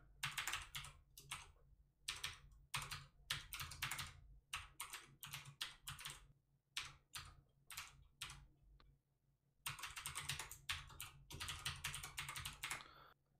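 A URL is typed on a computer keyboard in close, quiet bursts of rapid key clicks, with short pauses between runs of keystrokes and no voices.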